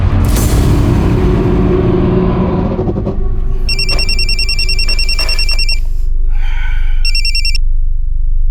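A telephone rings with an incoming call. A bright electronic ringtone starts in two bursts, the second shorter, over a loud low rumble of background noise.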